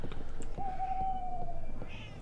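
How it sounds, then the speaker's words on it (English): Cat meowing in the Dark Shadows video game: a single drawn-out, wavering meow sounds clearly over a steady, busy background din. "Is that a cat somewhere or a child?"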